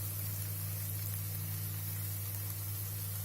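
Ginger paste going into softened tomatoes frying in a pan, giving a low, steady sizzle with a faint background hum and no talking.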